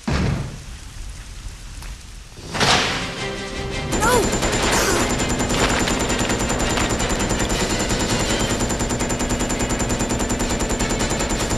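Sustained automatic gunfire from Resident Evil: Code Veronica X, a dense continuous rattle of shots that starts after a few seconds of game ambience and keeps going loud and steady to the end.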